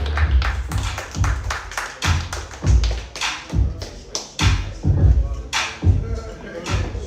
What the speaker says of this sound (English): Y'all make sure y'all clap it up for bro.